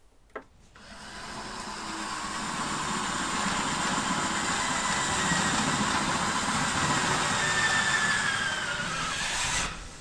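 A car engine runs at a steady idle, then picks up as the car drives off; the hum is close and even and fills the whole clip, with no one talking.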